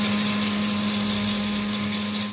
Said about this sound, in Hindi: रोस्टेड स्पाइसेस को हमने कर लिया है ग्राइंड।